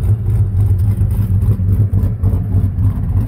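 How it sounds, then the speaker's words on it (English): A 2010 Chevrolet Avalanche with a rebuilt engine, cold air intake, truck cam and headers, running through an X pipe and dual Flowmaster-style mufflers, gives a loud, close, choppy lumpy rumble with a rhythmic lope, revving slightly throughout. "2010 Avalanche, has an X pipe to dual Flowmaster style mufflers, dual exit, one on each side."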